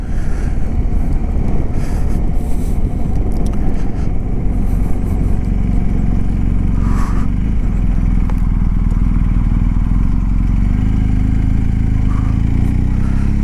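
A BMW R1250 GSA motorcycle being ridden at low speed, with a steady engine drone beneath constant wind rush buffeting the microphone, continuous and fairly loud from start to end.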